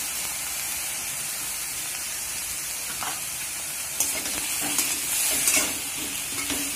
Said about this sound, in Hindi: हल्के आंच में थोड़ी सी फ्राई करेंगे।